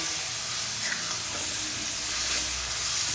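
Marinated Bombay duck fish hissing and sizzling steadily in a hot pan, a continuous close, bright frying hiss throughout with no talk.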